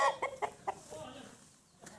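A high-breed rooster kept by a young boy gives a few loud, close clucks at the start. Softer, sparser calls and faint background murmur follow.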